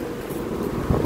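Strong wind gusting steadily against the microphone on a bridge over water during a fishing trip on an island, a broad continuous roar with a slightly louder gust near the end.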